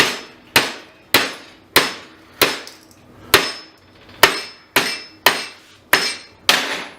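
Sharp metallic hammer strikes on a cold horseshoe held in a vise land one after another at a steady pace, about a dozen ringing blows, close and loud with brief decays.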